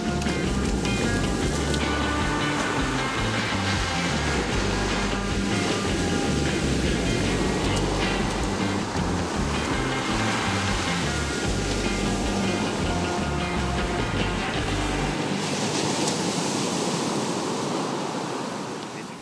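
Surf breaks steadily along an Ocean City beach on the East Coast, a continuous loud roar of waves with wind buffeting the microphone, easing slightly near the end.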